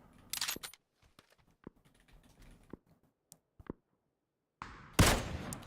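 K98 sniper rifle shots in PUBG, with a sharp loud crack near the start and another heavy blast toward the end, separated by quiet clicks and small sounds.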